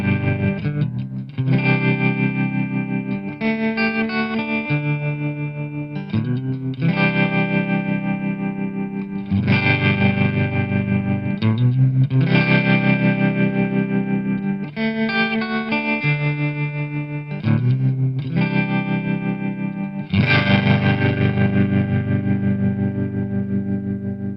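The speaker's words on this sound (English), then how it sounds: "I'm going to show you a tremolo effect that it's got" Electric guitar through a Marshall CODE 25 amp on a warm tremolo preset, playing sustained chords that pulse and throb, with slower strummed changes every few seconds, loud and alone.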